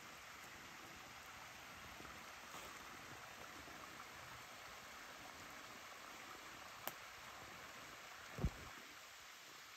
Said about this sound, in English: You may be able to hear the water in the background.